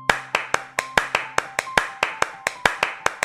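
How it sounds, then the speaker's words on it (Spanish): Steady hand clapping, about four claps per second, crisp and close, with a faint tone underneath and no talking. "¡Aplaude hasta que te diga que pares!"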